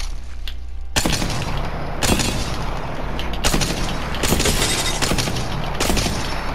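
A sniper rifle firing, about six sharp, loud, close shots spaced roughly a second apart, each with a short ringing tail and no talking.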